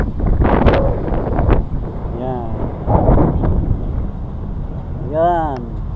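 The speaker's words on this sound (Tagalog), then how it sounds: "Lakas ang hangin." Strong wind buffets the microphone in heavy rumbling gusts while a person speaks intermittently, with a faint whistling tone between phrases.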